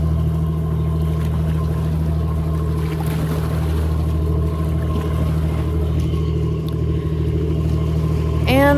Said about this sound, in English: That's one of the tour boats.